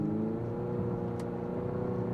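A 2023 Infiniti QX50 Sport AWD in sport mode gives a steady, moderately loud engine and exhaust drone with a low, even hum and no clear revving surges, heard alone without talking.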